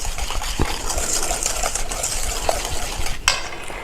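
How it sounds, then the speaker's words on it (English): Mandarin zest being stirred into a bowl of citrus curd for crème brûlée, a steady scraping and swishing with a few light clinks of utensil against the bowl, close and moderately loud, no talk. "Okay, so you'll go ahead and mix that zest in."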